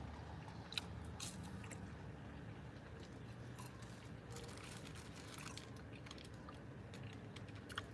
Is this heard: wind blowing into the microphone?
no